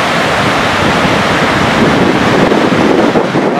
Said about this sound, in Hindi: पानी की आवाज़ बहुत तेज़ है, मैं खामोश होता हूं और आपको पानी की आवाज़ सुनाता हूं।